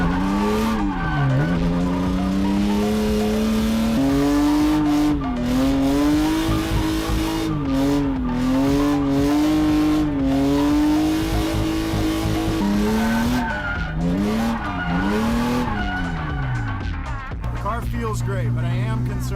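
A BMW M5 drifts around a track, its engine wailing and rising and falling in pitch as the tires squeal in long skids, loud and continuous from start to finish, with someone talking over it.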